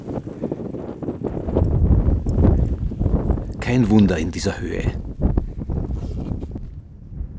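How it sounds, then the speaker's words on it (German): Gusting wind high in the Caucasus mountains of Georgia buffets the microphone in steady roaring waves, with one sharper burst midway, running under close talk. "Ganz oben pfeift uns der Wind um die Ohren."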